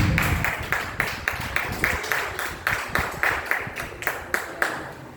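A church congregation claps steadily together to welcome a speaker, an even rhythmic beat of many hands close by, near-constant for several seconds.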